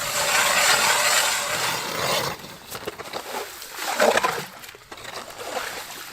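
Water splashes and sloshes up through a freshly drilled hole in frozen lake ice in deep cold, starting as a loud steady gush and breaking into irregular gurgling splashes.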